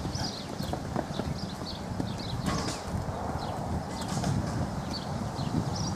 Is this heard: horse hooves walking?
yes